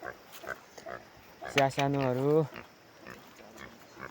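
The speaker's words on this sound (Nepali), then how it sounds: "सुँगुरलाई चारो दिनुको लागि तयार हुँदैछौँ साथी हो" Two farm pigs in Khotang, Nepal, grunt and squeal while waiting to be fed; one loud, strained squealing cry rises near the middle, with someone talking over quieter surroundings before and after.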